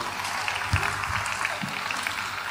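Audience applause at a town New Year's wishes ceremony in Dourges, steady crowd clapping with scattered louder claps, heard from within the hall.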